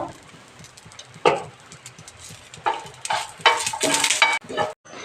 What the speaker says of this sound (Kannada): ಹಾಗೆಯೇ ಇವಾಗ ಜೀರಿಗೆನ ಸೇರಿಸ್ತಾ ಇದ್ದೀನಿ ಜೀರಿಗೆ ಮತ್ತೆ ಮೆಣಸು ಎರಡನ್ನೂ ಹಾಕಬೇಕು